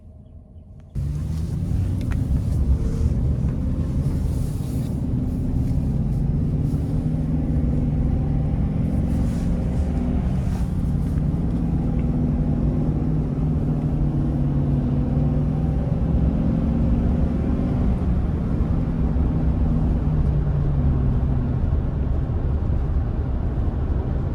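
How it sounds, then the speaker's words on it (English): A 2022 Chevy Express 2500 nine-passenger conversion van on a road test drive, heard from inside as a loud, steady engine and road rumble with wind noise that starts abruptly and holds for the full stretch. "take this Explorer Express 2500 conversion van out on the road for a quick test drive"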